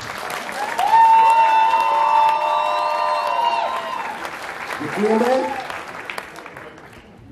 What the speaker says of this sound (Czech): Poprosím vás tedy o potlesk pro první pár.